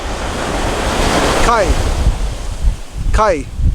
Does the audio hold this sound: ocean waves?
yes